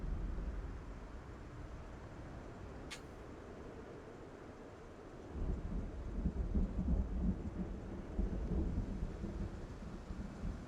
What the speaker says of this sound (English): It's still stormy.